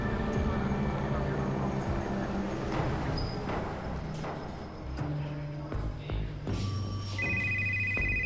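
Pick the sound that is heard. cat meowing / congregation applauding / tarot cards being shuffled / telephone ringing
telephone ringing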